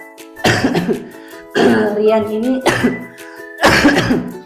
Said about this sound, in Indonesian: sorry ya batuk-batuk teman-teman